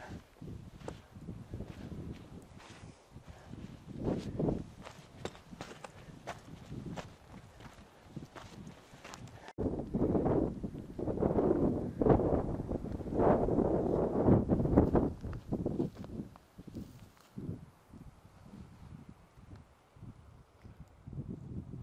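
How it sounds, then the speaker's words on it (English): Gusty wind on a mountain trail in Lincoln National Forest, New Mexico, rumbles and buffets the microphone in swelling waves, with scattered footsteps crunching underneath and a stronger stretch of gusts midway. "The wind is picking up."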